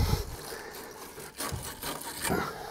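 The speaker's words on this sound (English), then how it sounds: "It cleans inside or outside the pipe. Acts like a bit of a rasp as well" Scratchy rasping strokes of a metal pipe-cleaning tool scraping copper pipe to remove burrs, several uneven passes close up, with no talking.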